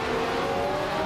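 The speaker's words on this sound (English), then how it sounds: "Celestia Linari is racing a 1971 McLaren" A 1971 McLaren M19A race car in a racing video game gives a steady, loud engine drone at high revs, brief and continuous with no talk.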